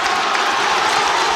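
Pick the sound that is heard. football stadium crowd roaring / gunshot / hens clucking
football stadium crowd roaring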